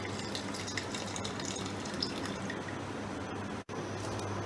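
Vegetable stock water is poured into masala in a grinder jar while cooking kofta curry. The pour sounds like a steady, close, gushing trickle that runs for several seconds without talk.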